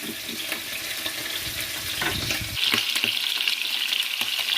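Fish frying in a pan as it is stirred and flipped, a continuous close hiss of hot oil with scraping and clattering movements, the sizzle brightening after the turn.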